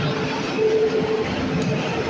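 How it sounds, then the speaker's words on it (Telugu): A passenger train hauled by a WAP-7 electric locomotive rolls into a platform with a steady low rumble and a brief thin metallic squeal, fairly close, no voices. "మా ట్రైన్ అయితే ప్లాట్ఫారం మీదకి అయితే రావడం జరిగింది"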